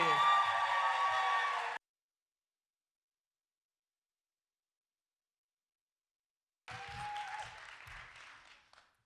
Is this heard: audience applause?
yes